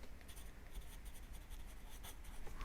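Colour names get written onto a paper colour wheel, with faint, close scratchy pen or pencil strokes in short repeated bursts over a quiet background and no talking.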